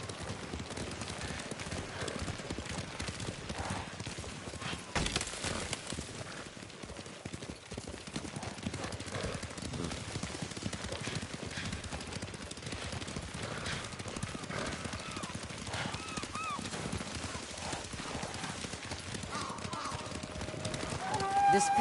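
Horses gallop in Ghost of Tsushima, their hooves clip-clopping in a steady, fast rhythm over a game soundtrack, with occasional whinnies and voices talking over it.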